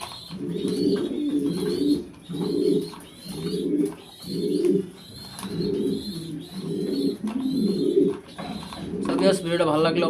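Giant Huma grizzle pigeons coo in a loft, a repeating series of low, throaty rolling coos in regular bursts, close and clear, with a brief flutter of other sounds at the end.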